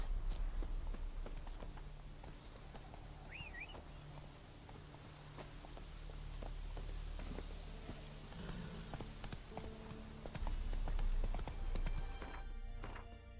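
Horse hooves clip-clop steadily as a rider travels in The Witcher 3 video game, a continuous rhythmic trot under a soft ambient background, with the hoofbeats swelling slightly near the end.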